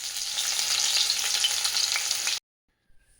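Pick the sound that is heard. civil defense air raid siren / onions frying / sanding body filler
onions frying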